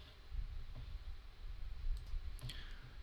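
A computer mouse clicks a couple of times near the end, small sharp ticks over a soft, steady background hum.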